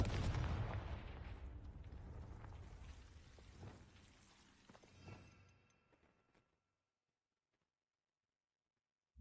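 A Confringo spell explosion in the Hogwarts Legacy video game: a booming blast that rumbles and crackles, fading over several seconds with a few smaller pops before cutting to silence.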